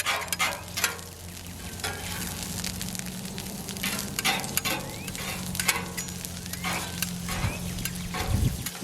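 Hot dogs are chopped and stirred on a hot griddle, irregular scraping clacks of a spatula over a steady close sizzle of frying food.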